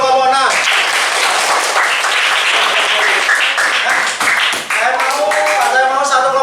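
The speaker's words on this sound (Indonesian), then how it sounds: "berikan tepuk tangan untuk kelompok 6." Classroom applause for a student group, dense clapping from many hands mixed with children's voices and cheering over the whole stretch, briefly thinning near the end before resuming.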